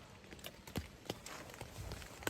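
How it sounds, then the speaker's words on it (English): Footsteps outside a tent in a forest at night, a quiet irregular series of soft crunching steps close by, faint and uneven in rhythm with no voices. "I hear footsteps. There's something outside my tent."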